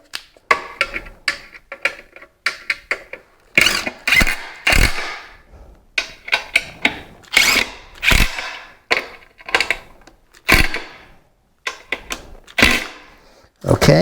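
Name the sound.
tightening ceiling fan blade screws with a screwdriver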